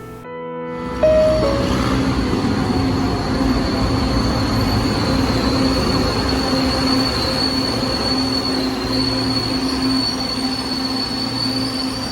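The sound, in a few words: MRT train passing on elevated track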